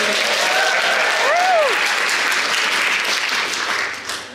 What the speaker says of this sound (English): Round of applause for Kimberly.